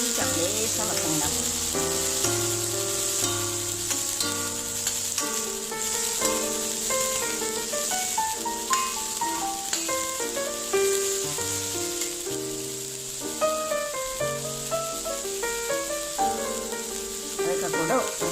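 Pumpkin and red beans for Kerala olan cook lightly in a pan with a steady soft sizzle, heard under background music that carries on throughout.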